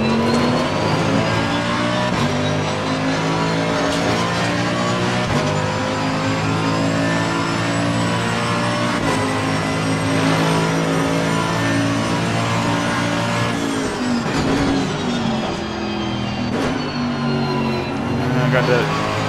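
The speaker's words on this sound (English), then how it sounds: "you hear all the gear, you know, the gearbox and all those kinds of things" A race car engine roars steadily with whining gear shifts and revving throughout, loud and continuous, in the racing game Assetto Corsa Competizione, an AMG GT3 at Silverstone.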